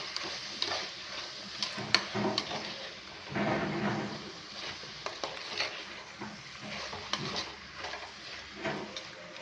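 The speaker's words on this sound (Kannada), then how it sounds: "ಕ್ಯಾರೆಟು, ಬೀನ್ಸು, ನೌಕೋಲು, ಅವರೆಕಾಳು ಹಾಕಿ ಚೆನ್ನಾಗಿ ಮಿಕ್ಸ್ ಮಾಡ್ಕೊಳ್ಳೋಣ." Carrots, beans, knol-khol and avarekalu stirred in a pan, soft scraping strokes and light clinks of a spoon against metal over a faint sizzle, close but quiet, in uneven bursts with no talking.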